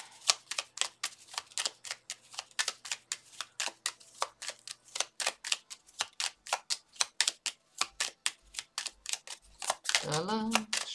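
Playing cards riffled and drawn from a deck, giving a run of crisp, rapid clicks and snaps close by, ending with a brief flurry and a short voiced sound.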